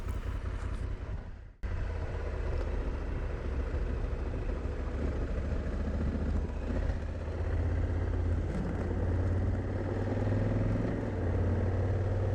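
A motorcycle rides along an unsealed dirt road near Mungo National Park, its engine droning steadily with wind and road rumble after a brief cut near the start.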